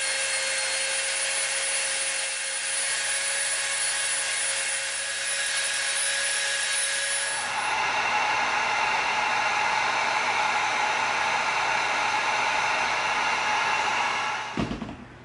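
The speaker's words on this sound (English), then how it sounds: "So we're going to cut it out first, then we're going to Dremel a bevel." A Dremel rotary tool bevels the edge of EVA foam, a loud, close, high-pitched whine that shifts in tone as it bites into the foam partway through, then winds down and stops at the end.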